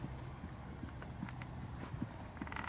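Hooves of a trotting horse under dressage-style schooling strike the ground in a quick, even rhythm, fairly quiet and close, with a soft low background hum.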